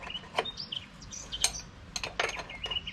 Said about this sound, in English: The birds are noisy today.